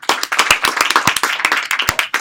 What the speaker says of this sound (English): Hard round of applause and welcome to the stage.